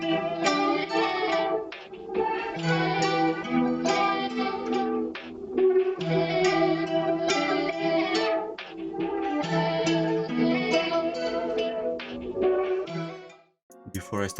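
A home-made guitar sample heavy with effects, meant for a beat, plays as a continuous melodic loop of plucked phrases with brief pauses, ending abruptly.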